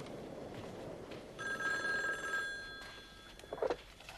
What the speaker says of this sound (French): Laissez sonner, vous n'êtes pas censé recevoir de coups de téléphone ici